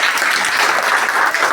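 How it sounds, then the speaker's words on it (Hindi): Schoolchildren at a government higher secondary school in Panchsheel Nagar break into loud, dense applause, a close wash of many hands clapping steadily throughout with no voices on top. "एक बार जोरदार ताली"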